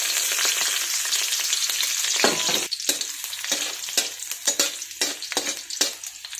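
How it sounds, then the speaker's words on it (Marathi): Mustard seeds, cumin and chopped garlic hit hot oil in a pan, a loud dense sizzle that then breaks into sharp popping crackles and stirring scrapes, close up with no talking. "तेल तापलं की आपण याच्यामध्ये 1 टीस्पून मोहरी टाकून घेऊयात, अर्धा टीस्पून जिरं."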